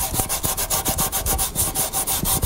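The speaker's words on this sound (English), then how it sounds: "So we brush these for a couple of minutes just to clean them up." Heavy-duty Scotch-Brite scrubs surface rust off a rear brake disc on a Range Rover Sport in fast, steady back-and-forth strokes, a close, continuous, rhythmic rasping with no voices.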